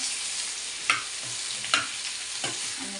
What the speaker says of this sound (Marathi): तेलावर शिजवून घ्यायची आपल्याला